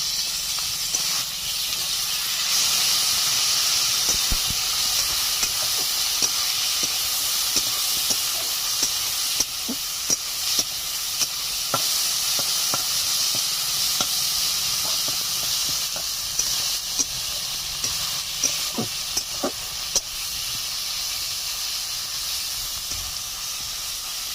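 Ginger, garlic, green chili paste and chopped tomato fry steadily in oil for a Bengali village-style chicken curry, a constant close hiss and sizzle with occasional small pops and stirring clicks.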